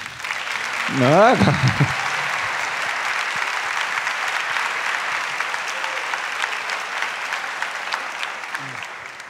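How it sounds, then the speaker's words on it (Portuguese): A church congregation applauds steadily for a volunteer beside the priest, a broad sustained clapping with a brief voice rising over it near the start. "Vamos bater palmas para o meu cobaia aqui."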